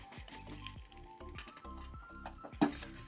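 Mustard seeds crackle and sizzle in hot oil, tempered for a shallot and drumstick theeyal curry with Kashmiri chilli powder; a steady loud fry with scattered pops and a sharper burst near the end.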